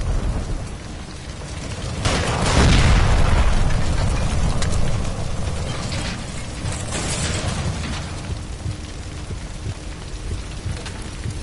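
A gas line explosion in the game L.A. Noire, a heavy low rumbling blast that swells and then settles into a lingering crackling roar with faint debris, no voices.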